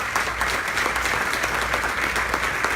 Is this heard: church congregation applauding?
yes